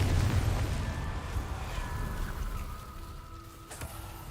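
A Confringo blasting spell goes off in a Harry Potter video game, a heavy rumbling boom that decays over several seconds, followed by a faint crackling pop near the end.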